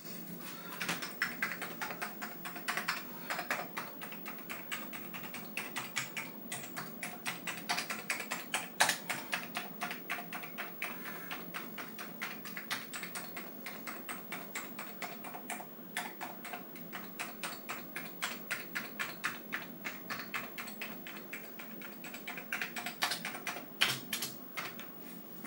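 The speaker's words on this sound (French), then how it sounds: "Ah, on va faire F2 keyboard. Et on va tester toutes les touches une par une." Rapid, steady clicking as each key of an Amiga 500 Plus computer keyboard is pressed one by one during a restoration test, a close, continuous run of keystrokes with no talking.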